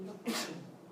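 A single sharp sneeze bursts out in a classroom during an astronomy lecture, brief and fairly close, with the teacher's voice continuing around it.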